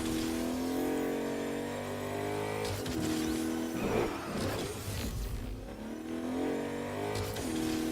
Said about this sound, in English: This car is about to blow up.